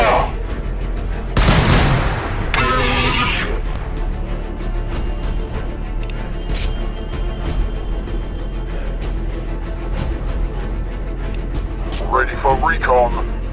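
Gunfire in the Warhammer 40k Battle Sector strategy game: loud, dense bursts of shots and blasts, with scattered sharp reports and brief voice lines in between.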